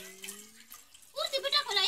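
Water starts running and splashing close by after a brief quiet stretch, poured during a leak check, following a short voice at the start.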